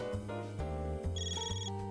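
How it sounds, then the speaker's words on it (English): A phone rings in the video game Trails Through Daybreak 2, a bright repeating electronic ring with steady pulses under a continuous musical tone. No voices are present. "Oh, a phone call."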